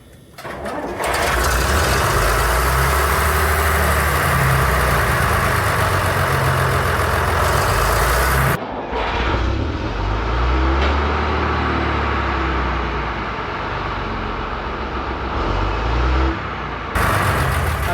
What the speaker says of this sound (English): give it a bit of throttle, and there's the start button